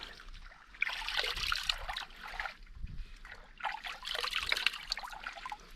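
Cool spring water emerging from underground on a Caribbean hillside in St. Vincent trickles and splashes in two bursts of bright, close flow with a brief lull between them.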